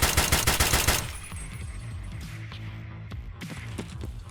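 Rapid SKS rifle shots fired from the hip in an online shooter, a dense burst of loud cracks in the first second, then a few scattered, fainter reports against game ambience.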